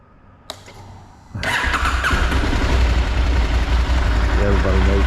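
A cold 2023 KTM 890 Adventure motorcycle engine cranks briefly, then catches and settles into a loud, steady idle close by.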